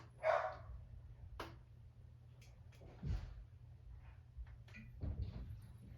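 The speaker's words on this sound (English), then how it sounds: "my dog's going crazy" A dog barks in a few short, separate bursts spread across several seconds, fairly distant and faint over a steady low hum, with no talking.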